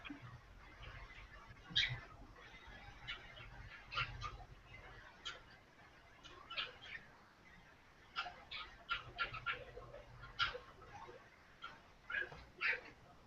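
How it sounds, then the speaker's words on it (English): Pet birds kept indoors alongside hamsters give short, bright chirping calls back and forth, scattered irregularly and moderately near over a low household hum. "the birds are going to start barking at each other"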